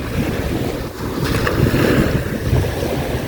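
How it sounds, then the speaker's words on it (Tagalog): Sea waves splash on the shore at seven in the morning, a continuous close wash of water with wind buffeting the microphone. "Naririnig naman ninyo siguro guys yung alon, I mean a splash ng tubig."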